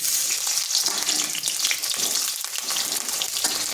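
Cut pointed gourd pieces frying in mustard oil, a steady loud sizzle and crackle that holds evenly throughout, close by, with no voices.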